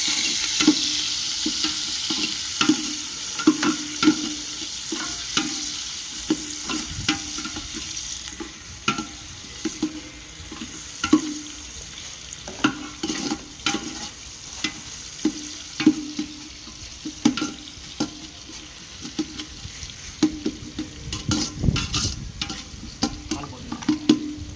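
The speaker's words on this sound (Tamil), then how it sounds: "அந்த பச்சை மிளகா நல்லா வதக்கணும்." Green chillies fry and sizzle in hot oil while being stirred, a steady bright hiss with recurring scraping and clinking stir strokes, close up and continuous with no voices, part of a chicken leg gravy fry.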